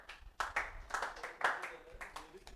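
Scattered hand claps from a classroom audience during a Hindi-language economics lecture, a few sharp, uneven bursts at moderate distance, thin and brief rather than sustained applause.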